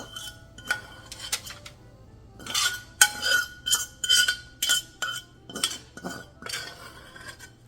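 A spatula scrapes and taps against a bowl or pan, pushing egg mixture onto a croissant for a bacon and cheese breakfast sandwich, giving a series of short clinking, scraping strokes close by with no talking.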